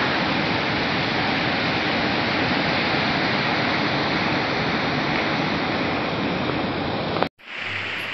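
A mountain river and waterfall near Munsyari in the Himalayan hills roar as one dense, constant wash of water, loud and close, broken by a brief cut just before the end.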